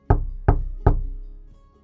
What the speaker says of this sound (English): he has heard someone knocking on his spaceship.